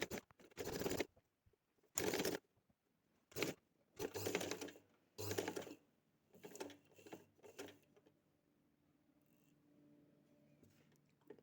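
A sewing machine stitches along the edge of a trouser hem in several short bursts of rapid whirring, separated by pauses, close and clear before fading to quiet handling.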